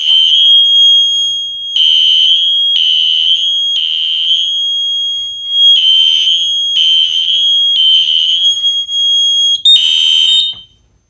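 A System Sensor i3 detector sets off a fire alarm system, sounding a loud, steady high-pitched electronic tone in repeating pulses of about one second each for roughly ten seconds, with a brief shift in tone near the end.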